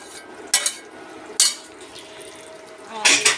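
Boiled potatoes fry in a pan for a home-cooked vegetable dish, with a low sizzle running throughout and three sharp clinks of a utensil against the pan.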